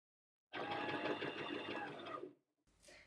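A sewing machine stitches a ruffled long dress panel in one steady, fast burst of needle clatter lasting about two seconds, close and alone, then stops with a faint rustle of fabric.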